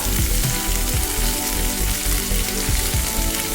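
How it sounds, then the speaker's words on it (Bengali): Four green chilies frying in a pan of oil for Bengali aloo posto give a loud, dense, steady sizzle that holds unbroken from start to end, with no voices. "চারটে কাঁচা লঙ্কা দিয়ে দিচ্ছি"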